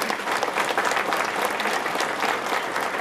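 Audience applause at a live musical stage show, steady dense clapping from a large crowd filling the hall throughout.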